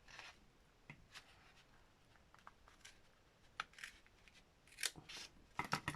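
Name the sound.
cutting paper with scissors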